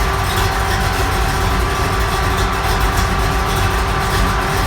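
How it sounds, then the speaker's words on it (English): Cooling fans whir in a constant, loud broadband rush over the low hum of an old car engine idling close by, with no talking. "You hear the fans running."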